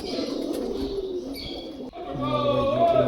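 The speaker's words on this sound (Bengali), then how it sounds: "এই দুই জোড়া পায়রা" Two pairs of domestic pigeons of an old bloodline coo softly and repeatedly nearby, overlapping with a person talking.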